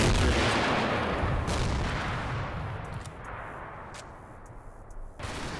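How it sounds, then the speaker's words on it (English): An RPG rocket fires in the Combat Mission: Black Sea war game, opening with a loud, broad blast that slowly fades into a long rumbling tail, with faint sharp cracks near the end. "The RPG gunner of the fort has lost his assistant, but still fires a rocket"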